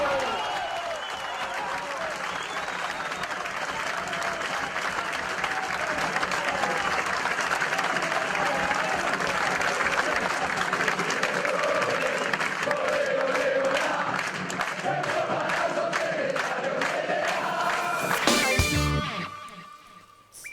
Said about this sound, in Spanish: Se pusieron a aplaudir los compañeros de Palazzo